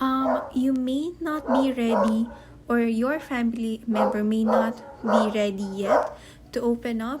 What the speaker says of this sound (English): sorry for the dog's noise.